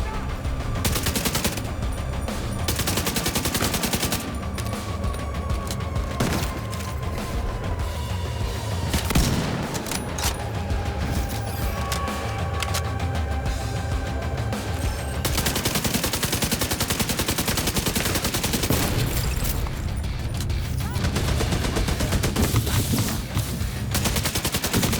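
Sustained gunfire in The Division 2, a dense wash of rapid shots and bursts rolling on without pause over a low rumble of battle, loud and continuous, with no voices.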